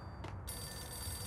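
An in-game telephone rings in the PS2 video game Max Payne, one short electronic ring rising over a low background hum, fairly faint and alone, with no talk.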